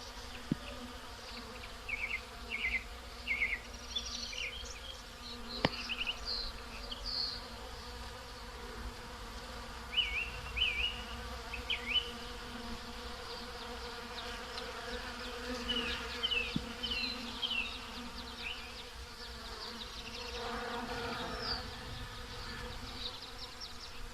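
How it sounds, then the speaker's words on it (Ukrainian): Honey bees work flowering boxwood shrubs in a spring garden, buzzing steadily with several closer passes rising and fading over a faint outdoor background. "А ось тут уже прокинулися бджілки-трудівниці. Самшит почав квітнути і вони працюють."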